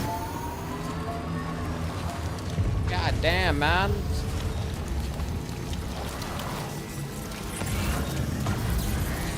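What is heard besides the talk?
heavy rain in the video game Death Stranding 2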